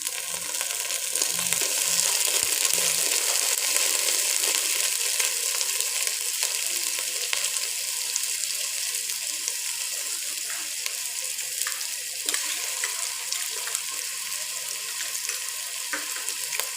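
A steady, close-up sizzle of garlic frying in hot oil with browned onions, crackling continuously with faint clinks of stirring.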